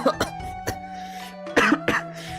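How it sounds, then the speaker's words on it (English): A person with bronchitis coughing, several close, harsh bursts clustered at the start and again near the end, with faint throat clearing between them and no talk. "And right now, I really want to cough."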